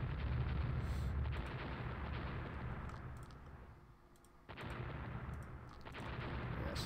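Naval gunfire in the warship game Rule the Waves, distant booming rumbles and muffled blasts rolling over a steady low background, with no clear individual shot standing out sharply.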